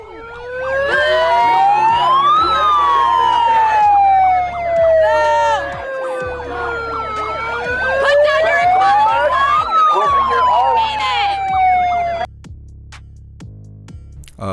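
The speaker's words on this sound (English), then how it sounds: "the sounds you're hearing are from the bullhorns" Loud wailing siren tones from bullhorns at a protest outside the US Supreme Court in Washington DC sweep up and down continuously, rising and falling in long cycles, cutting off abruptly near the end.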